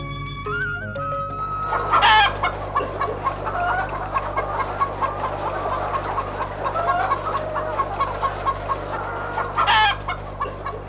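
Chickens on a village poultry farm, many hens clucking in a busy irregular chorus close by, with occasional louder squawks breaking out over a steady low background hum.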